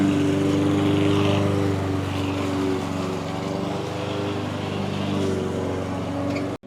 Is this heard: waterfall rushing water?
no